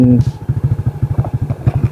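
Motorcycle engine chugging in a steady pulsing rhythm, close and loud, as the bike heads off-road toward a large cross; a brief voice is heard at the start.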